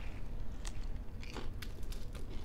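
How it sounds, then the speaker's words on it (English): Close-up crunching as a crisp chaffle is bitten and chewed, several sharp crackly bites over a low background rumble. "Do you hear that crunch?"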